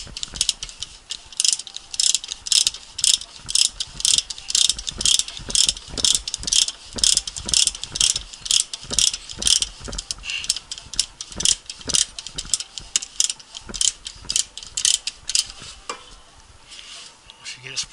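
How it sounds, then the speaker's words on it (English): A caliper spreader tool ratchets open against brake calipers on a BMW E92 during a brake change. It makes a steady run of quick metallic clicks that continues for the whole stretch, close and fairly loud. "So you use this right here to spread calipers. Spread it wide open."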